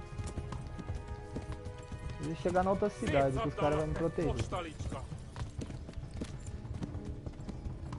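A horse gallops with rapid, steady hoofbeats in Kingdom Come: Deliverance while riders pursue, the clatter loud and close throughout, with someone talking over it.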